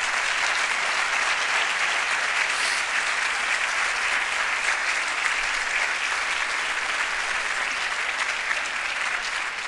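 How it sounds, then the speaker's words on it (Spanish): Audience applause for award winners at an annual conference ceremony, a continuous even roar of many people clapping, steady and moderately loud for the whole stretch with no talking. "aplausos para los premiados, pues adelante"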